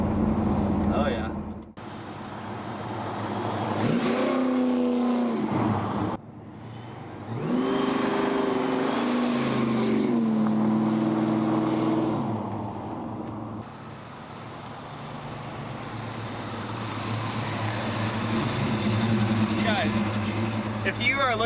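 A 1971 Chevrolet Chevelle engine revs hard several times, the pitch climbing and falling in strong swells between a rumbling idle, close and loud, with talking over parts of it.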